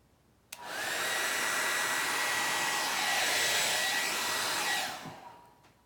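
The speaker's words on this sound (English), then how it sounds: "Let me torch it and see what happens." A heat torch blasts steadily across an acrylic Dutch pour painting in blues, gold and phthalo green, a loud continuous roaring hiss lasting about four seconds before cutting off, with no talking.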